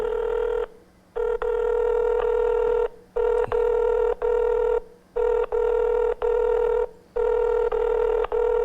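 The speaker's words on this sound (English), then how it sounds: "I've never heard a phone ring like that before." Odd, unusual telephone ringing tone on a call line: a steady harmonic buzzing tone repeating in bursts with short gaps, about seven pulses, loud and alone with no talk.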